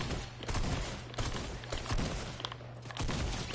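Rapid bursts of gunfire from a weapon in the Fortnite video game crackle through a dense, continuous fight with a steady low hum underneath, loud and close with no voices.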